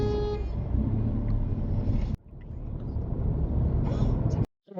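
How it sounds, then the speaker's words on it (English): A Peugeot's horn sounds from the centre of the steering wheel as an impatient driver honks near the Griff roundabout in Nuneaton, a tonal blast at the start over steady road and engine noise, with a shorter toot near the end. "it was them who blew the horn"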